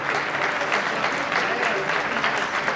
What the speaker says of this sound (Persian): شما عزیزان رو خیلی گرم و خوب تشویق بفرمایید